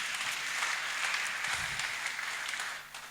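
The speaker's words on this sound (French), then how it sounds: "Qui peut applaudir pour moi pour ça?" Church congregation applauds during a sermon, a soft, distant wash of clapping that holds steady for a few seconds before fading.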